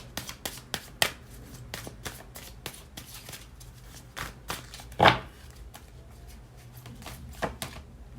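Tarot cards shuffled by hand, a quick run of crisp, close riffling flicks and taps at a steady rhythm with a few sharper snaps, played alone without talk.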